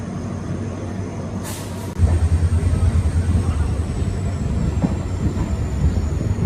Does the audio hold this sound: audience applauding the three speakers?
no